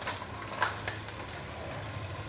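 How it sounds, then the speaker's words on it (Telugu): Mustard seeds splutter in hot oil for a tempering: a quiet continuous frying crackle with small scattered pops, steady throughout, no speech. "పోపు ఘనంగా ఉండాలి, ఆ పోపు బాగా వేగాలి"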